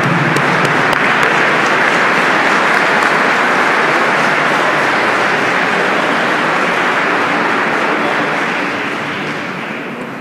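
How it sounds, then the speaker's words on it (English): A large crowd applauds loudly and continuously, a dense roar of clapping that fades slightly at the end. "Round of applause to the Honorable Minister Louis Farrakhan."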